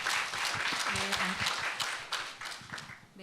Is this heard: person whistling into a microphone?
no